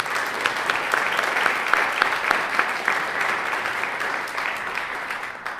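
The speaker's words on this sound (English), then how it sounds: "I just wanted to give him a round of applause" Audience clapping steadily for a new worship associate at a church service, a sustained round of applause from a moderate crowd that tapers off slightly toward the end.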